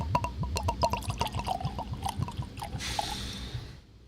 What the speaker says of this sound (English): Let's see what this pours like.